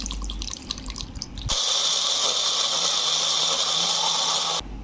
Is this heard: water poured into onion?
yes